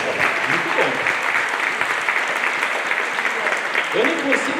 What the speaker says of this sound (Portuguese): a salva de palmas para a Dona Odete